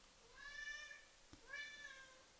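A house cat meows twice in a row, two clear drawn-out tonal cries about a second apart, close to the microphone in a quiet room, with a soft thump between them.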